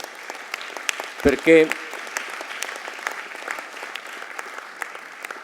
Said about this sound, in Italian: vi prego di accoglierli con un applauso